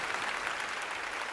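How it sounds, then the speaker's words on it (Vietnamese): Steady crowd applause for dancers at a televised Vietnamese celebrity-impersonation elimination show, a dense, even wash of clapping filling the whole moment without a break. "Một tràng pháo tay thật lớn dành cho các bạn vũ công của chúng ta ngày hôm nay"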